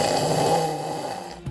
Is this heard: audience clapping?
no